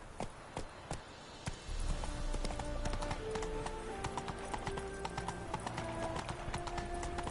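Hooves of Roach, the horse in The Witcher 3: Wild Hunt, clip-clop in sparse steps and then settle into a steady, close gallop rhythm over a low rumbling bed.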